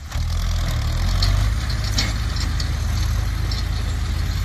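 An old first-generation Kubota L4708 tractor engine revs with a steady, loud low rumble throughout, close up, with no talk.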